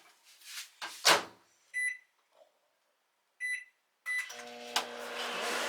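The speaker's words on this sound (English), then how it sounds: "I'm going to put this in the microwave for 20 seconds" A microwave oven is being set to melt chocolate chips. Handling clunks and a door thud are followed by two short electronic beep bursts, then the oven starts with a steady low hum that runs to the end.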